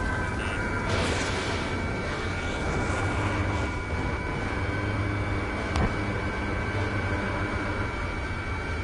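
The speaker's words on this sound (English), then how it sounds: "They have 4 aircraft. More planes incoming." Steady engine roar of aircraft flying overhead in Ace Combat 7, broad and continuous throughout, with a brief sharp click partway through.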